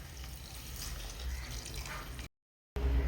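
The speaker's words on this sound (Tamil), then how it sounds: "தண்ணி ஊற்றிக்கிறோம்" Water poured into a cooking pot while making goat trotter paya, a continuous splashing flow that runs steadily, cuts out briefly, then resumes louder and nearby.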